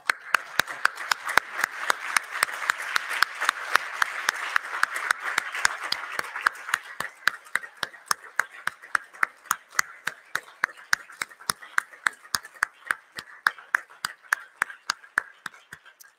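Applause at a nursing pinning ceremony, a fairly quiet patter of hand claps that thins after a few seconds into a sparse, regular clapping from only a few people, with no talking.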